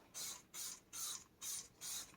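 Five short hissing bursts of Koch-Chemie Motorplast protectant sprayed onto a car engine bay in a steady rhythm, each about a third of a second, with brief pauses between, close and fairly quiet.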